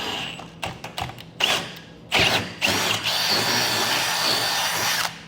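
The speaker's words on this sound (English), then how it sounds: "We're going to use that as a template to drill through one side of our frame" A power drill drills through the steel frame of a 2016 Jeep Wrangler, whirring in short bursts, then running steadily and loudly, with a few knocks and clatters of metal work mixed in.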